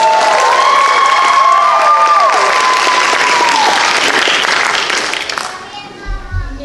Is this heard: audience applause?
yes